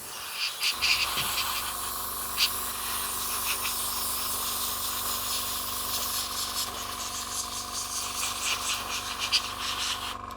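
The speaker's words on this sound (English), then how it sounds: "now I take my airbrush with alcohol in it" An airbrush sprays alcohol onto the cabinet of a Grundig 2140 radio during restoration: after a brief pause, a continuous close hissing spray runs with slight pulses in strength.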